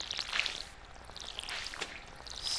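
Watering crops in Stardew Valley, a soft continuous splashing pour with light dripping, steady and fairly quiet with small bursts of spatter.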